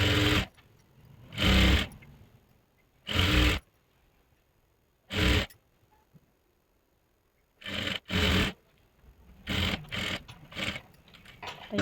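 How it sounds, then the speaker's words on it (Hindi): A sewing machine stitches around the belt of a salwar in repeated short bursts, each a loud close whir lasting under a second, separated by quiet pauses, with quicker clustered runs toward the end. "ऐसे फोल्ड करते हुए पूरे राउंड में सिलाई लगा लेंगे"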